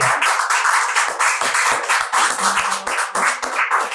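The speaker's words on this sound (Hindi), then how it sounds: "जोरदार ताली बजाओ मंच पे।" Audience clapping at a Hindi poetry recital stage, a dense, steady patter of many hands sustained throughout, loud and continuous with no talk over it.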